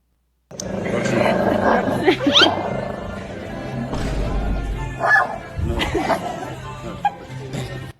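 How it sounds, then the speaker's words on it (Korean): A small dog barks fiercely and repeatedly at a lion, with sharp yips and bow-wows in irregular bursts, loud and close, mixed with a low growl or roar and some background voices. "이 쬐끄만 강아지가 사자를 향해 감히 잡아먹을 듯이 막 짖고 있습니다"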